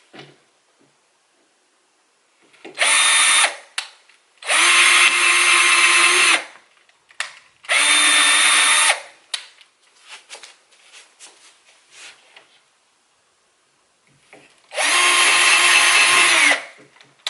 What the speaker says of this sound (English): Now we need to take the drill bit out